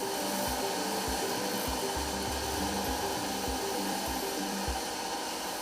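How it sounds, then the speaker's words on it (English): Sanding machines smoothing carved sculptures made from flip-flop foam fill a noisy workshop with a loud, continuous whir, punctuated by regular low thumps. No one talks. "use these sanding machines to smoothen the sculptures"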